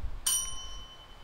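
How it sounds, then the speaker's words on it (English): A single bright bell ding used as a sound effect rings out once, a sharp strike followed by a thin ringing tone that decays slowly, fairly quiet against low background noise. "Hit the bell."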